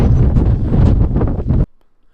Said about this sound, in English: Wind is blowing really hard up here on top.